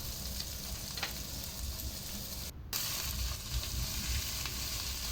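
Beef ribs fry in a pan for a sweet and sour dish, giving a steady, dense sizzle that runs throughout with one brief dropout partway and no talking.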